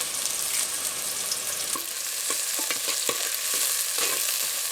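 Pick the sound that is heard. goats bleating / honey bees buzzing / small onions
small onions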